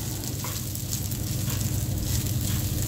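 Egg fried rice sizzles steadily in a hot pan while it is tossed and mixed, a dense, continuous frying hiss up close with soft stirring scrapes.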